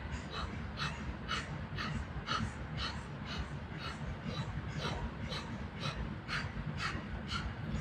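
Breath of fire in a Kundalini yoga session, rapid rhythmic forceful breaths through the nose, about two per second, close and steady with no talking.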